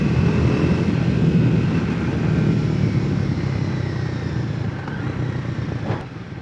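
A Triumph Thruxton 400 motorcycle is ridden, producing a steady, loud engine drone and wind rush that holds throughout, the pitch shifting slightly as the ride continues.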